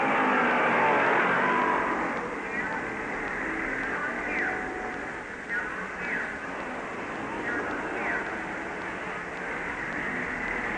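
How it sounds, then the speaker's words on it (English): A Triumph Cub motorcycle races around a corner in a 1957 Catalina Grand Prix, its engine a sustained, noisy rasp with faint rising whines from other machines, heard as a broad wash that dips slightly mid-way. "Don Hawley's Triumph Cub trims the corner and Axthelm is close behind."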